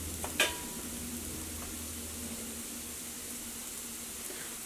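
Chopped tomatoes dropped into chicken masala sizzling in a hot pan for chicken peralan, a short burst of crackle at the start and then a soft, steady sizzle.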